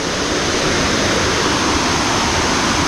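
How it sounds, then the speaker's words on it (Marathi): A monsoon-swollen river in the Konkan, fed by the Marleshwar waterfall, rushes past nearby as a loud, unbroken roar of churning water with no pauses. "हीच ती नदी वरचा जो वॉटरफॉल येतो तर त्याची पुढे ही नदी बनते"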